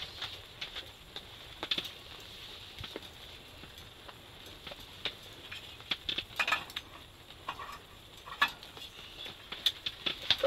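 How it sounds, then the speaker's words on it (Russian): Rain patters steadily on taut tent fabric, a dense spread of soft, irregular taps with a few sharper drops, fairly quiet and close, with no voices. "Вот слышите, наверное, как дождь бьет по палатке."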